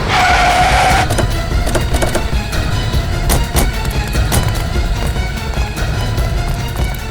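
Cars skid hard during a road chase, with a loud, continuous tire screech and roaring engines throughout, a shrill squeal standing out in the first second, then grinding skid noise with scattered sharp bursts.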